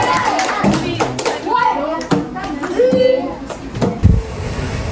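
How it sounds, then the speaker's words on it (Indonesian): Children in a classroom clap briefly for a classmate, scattered hand claps and thumps mixed with close, loud child and adult chatter. "Tepuk tangan untuk Lutfi dulu."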